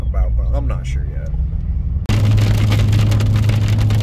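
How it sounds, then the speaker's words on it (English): A person talks inside a car during a spring storm, then hail suddenly starts pelting the car and becomes a loud, dense, continuous drumming that fills the rest of the clip. "Got some hail."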